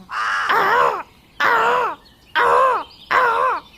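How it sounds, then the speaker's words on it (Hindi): A crow perched in a tree caws four times in a loud, close, evenly spaced series of harsh, drawn-out calls with short silences between them. "कौवा पेड़ पर बैठ के लगातार अपनी साथी को बुला रहा था"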